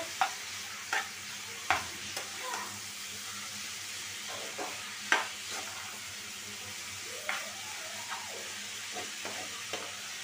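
Vegetables with salt and turmeric fry in a pan, a steady broadband sizzle running throughout with scattered sharp clinks and scrapes of a spatula stirring at irregular intervals.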